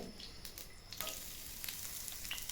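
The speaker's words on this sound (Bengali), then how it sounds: "বাগারের জন্য আমি পেঁয়াজ কুচি রসুন কুচি আর শুকনো মরিচ ফালি করে দিয়েছি ব্রাউন কালার হয়ে আসছে" Chopped onion, garlic and dried chili sizzle in hot oil for a tempering, a dense continuous crackle close at hand with faint stirring scrapes, without any voices.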